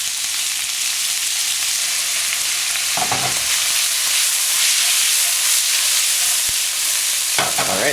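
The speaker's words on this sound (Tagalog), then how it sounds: "lulutuin lang natin itong pork hanggang sa mag-brown ito" Pork browning in a pan for pancit bato guisado gives a steady, loud sizzle with bursts of stirring and scraping, one sharp clatter near the end, and no talking.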